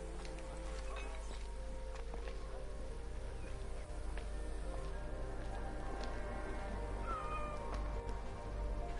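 A cat meows in the video game Assassin's Creed Origins, a few short calls over a steady ambient game soundscape with faint background rustle.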